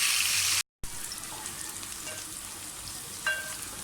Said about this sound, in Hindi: प्याज को अच्छी तरह से फ्राई कर लें